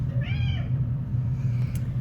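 A single close, clear cat meow near the start, then a low steady hum in the background with no talk.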